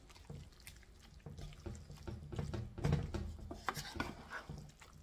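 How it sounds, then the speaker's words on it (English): Turkey dressing being stirred quickly with egg in a bowl, giving soft wet squelching and scraping in an uneven rhythm, faint and close. "So we'll just mix it fast so that that doesn't happen."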